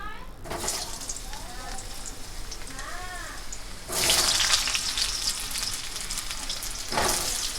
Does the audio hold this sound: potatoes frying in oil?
yes